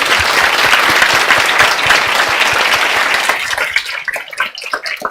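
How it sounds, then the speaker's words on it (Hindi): A classroom audience claps loudly for CA teacher Anand sir during a CA Foundation accounts lecture, a dense burst of applause that carries for about three seconds and then thins into scattered, fading claps. "एक बार आनंद सर के लिए जोरदार ताली बजाओ।"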